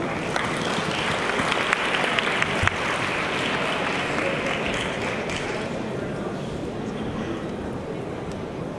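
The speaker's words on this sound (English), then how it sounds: "Please, round of applause, please." Audience applause for a panel moderator, a BBC News broadcast journalist, at a tech conference session: dense, steady clapping from a large crowd that holds evenly throughout.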